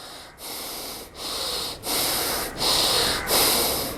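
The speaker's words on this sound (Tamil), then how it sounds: "மெதுவாக மூச்சை உள்ளெழுத்து மெதுவாக மூச்சை வெளியிடுங்க ஒரு மூன்று முறை" Slow, deep breaths during seated chinmudra hand-gesture practice for calm, drawn in and let out in about five long, airy cycles separated by short pauses, close and steady with no talking.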